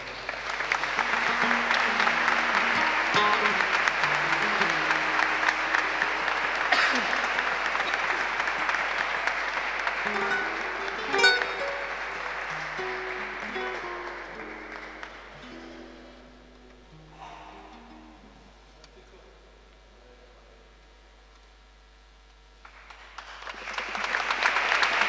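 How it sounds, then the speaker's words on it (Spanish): Audience applause at a tribute during a song contest for saetas and mining songs, dense and sustained, then thinning to scattered claps before a fresh swell at the end. "un fuerte aplauso."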